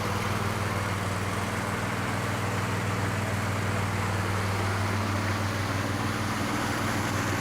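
A 2004 Troy-Bilt 809H garden tractor riding mower runs steadily with its throttle up while creeping along slowly, a constant low engine drone heard close and unchanging throughout.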